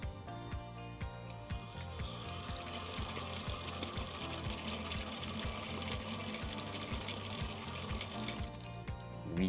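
Water flowing through a 3D-printed flow meter, a steady faint trickle accompanied by a rapid regular mechanical ticking from the spinning gear, continuous throughout.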